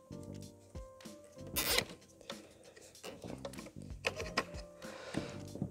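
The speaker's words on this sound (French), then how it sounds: "Soit vous venez prendre un Colson et vous l'accrochez" A Colson cable tie ratchets tight around a red wire inside a Scott Slimissimo grinder housing, giving short zipping rasps in several bursts between soft handling clicks and rustles, close and fairly quiet.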